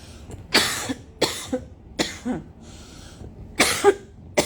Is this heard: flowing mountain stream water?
no